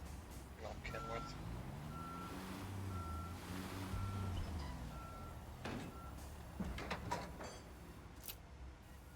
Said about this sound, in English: Big old Kenworth.